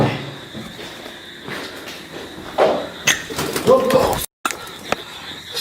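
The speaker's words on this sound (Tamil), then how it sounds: "புறா" Pigeons on a rooftop terrace giving soft, short coos and a few flutters amid faint footsteps and rustling, fairly close, with people's voices in the background.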